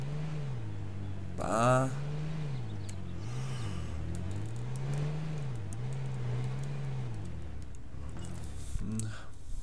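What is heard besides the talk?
car engine revving in video game H1Z1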